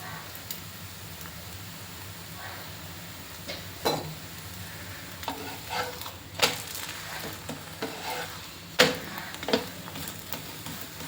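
Paratha frying on a pan with oil, a soft continuous sizzle broken by scattered sharper crackles and spatters, with someone speaking quietly at times.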